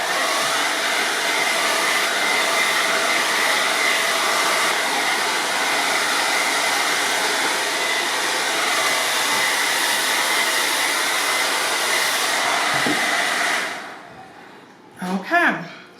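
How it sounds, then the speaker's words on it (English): Hair dryer running on high while blow-drying relaxed curly hair, a steady loud whooshing roar that holds for about thirteen seconds, then shuts off, followed by brief faint handling sounds. "we're gonna turn it up on high and just go ahead and blow dry this next step"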